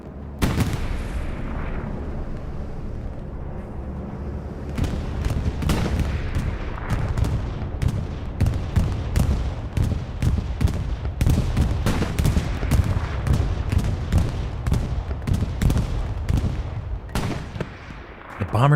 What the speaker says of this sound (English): Bombing run called into the east side.